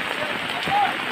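Heavy rain pours down during Typhoon Paeng over an outdoor basketball game, a dense, even hiss of drops beating on surfaces that fills the whole moment.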